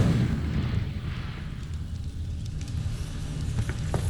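Incendio, a fire spell cast in Hogwarts Legacy, produces a sustained low whooshing roar of flame with crackling flickers, moderately loud and continuous throughout.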